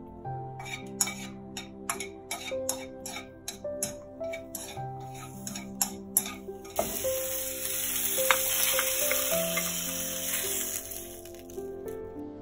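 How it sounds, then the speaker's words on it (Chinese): Shiitake mushrooms stir-fry in a hot wok, a sizzle swelling in about halfway through and running steadily under tuneful background music with a ticking beat. "我们也把这个香菇稍微爆香一下"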